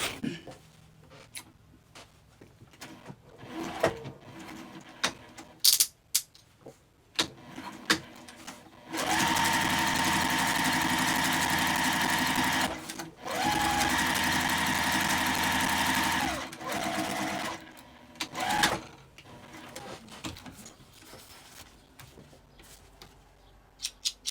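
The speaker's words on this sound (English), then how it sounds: "we're going to stitch across the bottom. Just across the bottom of the lining" A sewing machine stitches across the bottom of a tote bag's lining in a steady, close run of about seven seconds with a brief pause midway. Quieter handling clicks and rustles come before and after.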